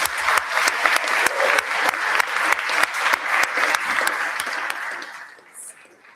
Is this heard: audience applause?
yes